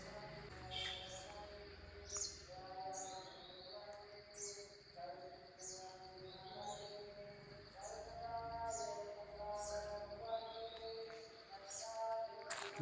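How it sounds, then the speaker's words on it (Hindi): Small birds sing and chirp repeatedly in a quiet forest near an old cave shrine, high bright phrases over a soft, steady ambient hush, faint and fairly distant, with no talk. "पक्षियों की आवाज़, प्रकृति की आवाज़ सुनते रहो"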